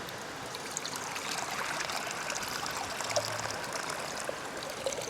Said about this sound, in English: I go juice the coconut here now in the pot.